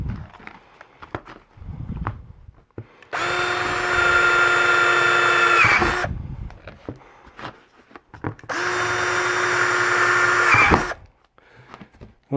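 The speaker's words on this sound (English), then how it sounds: "We're going to drill some holes." Two bursts of a power drill whirring at high speed, drilling holes in a plastic bin, each lasting about three seconds, separated by quiet handling and light clatter nearby.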